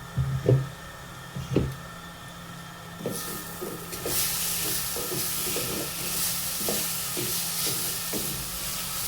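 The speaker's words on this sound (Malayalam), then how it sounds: "ഇനി ഒന്നും കൂടെ ഇതൊന്ന് ഇളക്കിയിട്ട് കൊടുക്കണം." A cabbage and carrot thoran cooks in a pan, with a few spoon knocks and stirring scrapes over a low sizzle that rises into a loud, steady hiss of frying.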